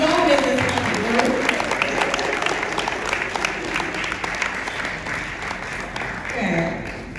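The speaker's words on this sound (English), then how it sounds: "Please, let's clap, let's clap, let's clap." An audience claps at an International Women's Day event, steady dense applause that holds throughout with a voice speaking over it.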